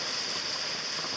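Heavy rain during a thunderstorm in the Everglades, a steady dense hiss of downpour with no breaks, loud and close throughout.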